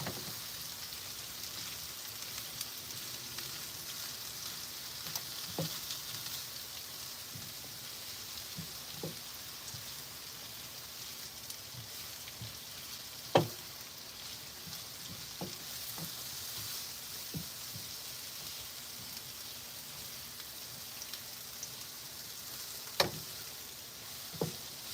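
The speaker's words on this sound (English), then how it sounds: "we're sauteing our onions to our liking" Onions sautéing in a pan on a stove inside a tiny home on wheels, a steady low sizzle running throughout with a few sharp utensil clicks and taps scattered over it, no voices.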